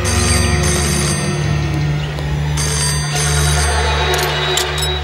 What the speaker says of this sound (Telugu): ఫోన్ ఎత్తర ఇటే.